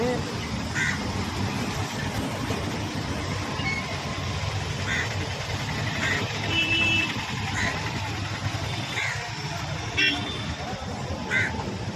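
Harsh caws repeat at intervals over steady outdoor noise, with a person talking throughout and traffic rumbling in the background.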